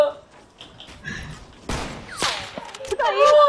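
Gunfire in Fortnite during a one-on-one hunting rifle match: a few sharp, loud shot cracks and impacts stand out amid game effects, with players talking excitedly over them.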